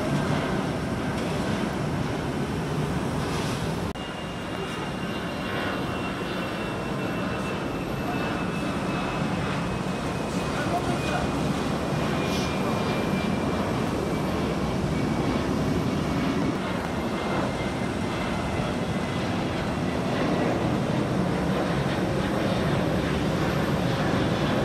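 Airplane on the Munich flight near London Heathrow, a steady broad engine roar held at constant loudness throughout, with a faint whine gliding slowly downward.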